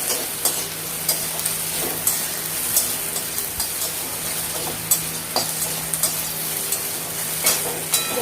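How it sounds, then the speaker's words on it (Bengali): Shukto spice mix frying in a pan, a steady bright sizzle with occasional stirring scrapes and clinks, close and continuous with no voices. "এই শুক্তো মশলাটা ভেজে নিচ্ছি।"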